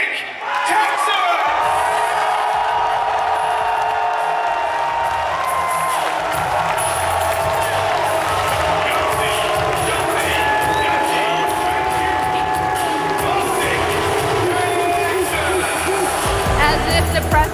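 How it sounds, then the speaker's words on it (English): An arena crowd at a Call of Duty League major in Dallas roars and whoops for OpTic Texas, a broad sustained wall of cheering that swells and holds loud throughout, with voices shouting inside it. "please make some noise for Optic, Texas!"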